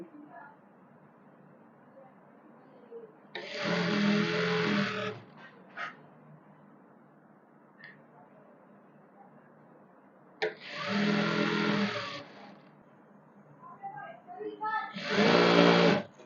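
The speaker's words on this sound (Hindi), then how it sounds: "इस पर मैं ऐसे सिलाई लगा दूंगी, इस तरह से" A sewing machine stitches lace onto a sharara in three loud bursts of several seconds each, with quiet pauses and a few small clicks between them.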